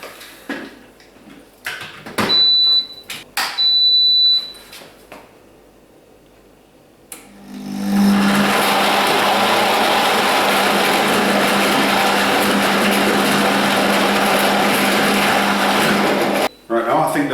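An Alfawise 2000W high-speed blender runs loud and steady, whirring through frozen mango and almonds with a continuous roar after a few sharp clicks and knocks as the lid goes on.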